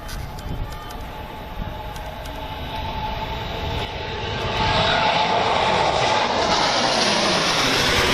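A fighter jet on an expressway road runway roars steadily and loudly, building in intensity partway through into a broad, sustained engine rush, with no voices.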